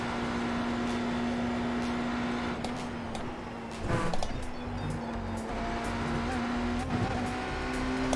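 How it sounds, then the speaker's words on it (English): LMP2 prototype race car in iRacing at the Daytona 24 Hours, a steady high-pitched engine drone holding constant throughout with brief louder swells near the middle and end, close and continuous. "how fast is LMP2 going to be?"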